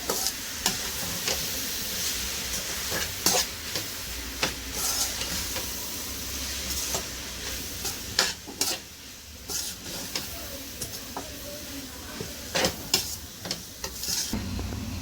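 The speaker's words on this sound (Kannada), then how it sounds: "ಎಲೆ ನಾವು ವಾಶ್ ಮಾಡಿ ಇಟ್ಕೊಂಡಿದ್ದೀವಲ್ಲ 2 ಕಪ್ಪು, ಇದನ್ನು ಹಾಕಿ ಒಂಚೂರು ಫ್ರೈ ಮಾಡ್ಕೊಳ್ಳೋಣ." Freshly washed moringa leaves fry in a pan, a steady sizzle and hiss broken by repeated stirring clacks and scrapes of a spatula.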